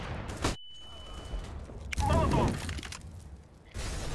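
A Molotov cocktail shattering in CS:GO, a sharp glassy crash mid-clip amid other sudden game bangs and bursts of noise, loud and close.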